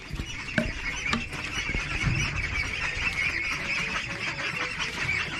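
A flock of ducks quacks and honks steadily and close by while being fed vegetables from the market, a dense, continuous chorus of overlapping calls.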